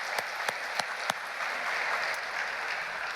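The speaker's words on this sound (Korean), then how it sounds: "3년 동안 우리 하나님께 감사와 영광의 박수를 올립니다." Church congregation applauding during a Sunday sermon, a short burst of steady clapping with a few louder individual claps standing out at the start.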